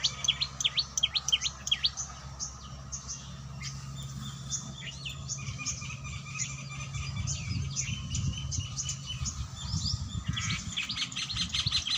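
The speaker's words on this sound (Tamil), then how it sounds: "இந்த மரத்தில் தான் குருவிகள்லாம் ஒரே சத்தமாக இருக்குது" Many sparrows chirp busily and continuously in a tree, quick overlapping tweets over a low hum of background noise.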